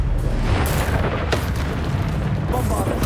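Confringo fire-blast spell bursting in Hogwarts Legacy combat, a loud, dense roar with a sharp blast near the start and another impact midway, voices calling under the din.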